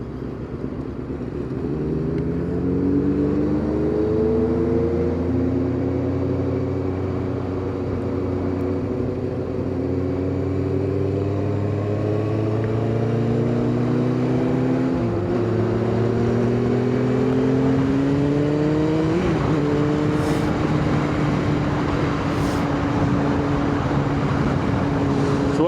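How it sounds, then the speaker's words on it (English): Motorcycle engines, a Kawasaki ZX9R and ZX7R, drone and rev steadily on a ride through Birmingham traffic, their pitch rising and falling through gear changes, loud and continuous with passing road noise. "Oh, look at that traffic. Yeah, you cook it with that traffic. There's loads of traffic."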